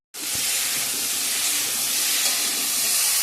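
Taro sizzles loudly in hot oil, a sudden bright hiss that starts abruptly and holds steady and close throughout.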